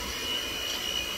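An electric mixer whips egg white in a bowl with a steady, close whirring hum, alone and unbroken.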